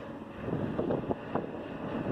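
Wind gusts across the Mt Washington observation deck, buffeting the microphone with low, uneven rumbling bursts at a fairly faint level.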